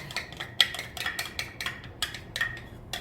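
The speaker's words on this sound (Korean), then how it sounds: "그 다음에 소고기 먼저 들어가요" Beef for Korean jangguk-juk porridge goes into a heating pan and is stir-fried with a spatula, giving a steady string of light taps and scrapes against the pan, fairly faint and with no voices.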